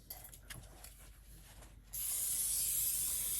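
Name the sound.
greasing a baking pan with spray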